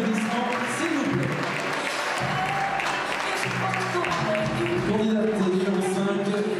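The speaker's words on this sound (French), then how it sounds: "Avec vos applaudissements, s'il vous plaît." Audience applause at the Miss Saône-et-Loire 2014 beauty pageant rises as steady, full clapping from a crowd while music plays and a presenter's voice carries over it.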